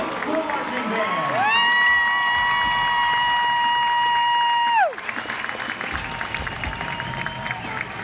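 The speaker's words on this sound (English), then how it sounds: "can you please give one more round of applause to the White Oak High School Marching Band?" A large audience at a high school marching band competition claps and cheers loudly for the White Oak High School Marching Band, a sustained roar of applause and whoops under a held tone that cuts off, leaving scattered clapping.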